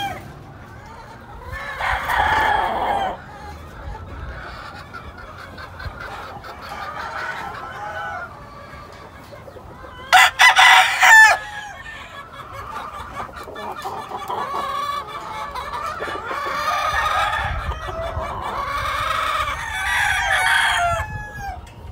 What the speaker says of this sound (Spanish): chulada de gallo que le estamos mostrando aquí